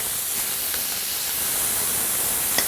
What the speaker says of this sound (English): our pan is perfectly going to sear that flavor right into that steak